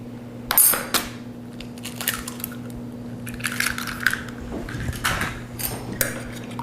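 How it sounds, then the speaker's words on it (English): Eggs are cracked against a bowl and then whisked for a breading station, with an opening sharp crack followed by clinking, scraping beats of a utensil on the dish over a steady low hum. "So I'm going to start by cracking and scrambling these eggs."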